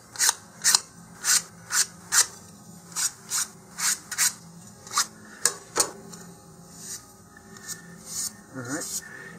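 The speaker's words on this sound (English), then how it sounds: "sand the edges against a flat surface as well, like we did initially preparing the fins" Fin edges of an Estes Baby Bertha model rocket are rubbed against sandpaper on a flat surface, giving a steady run of about a dozen short, close rasping strokes with a few softer scrapes near the end.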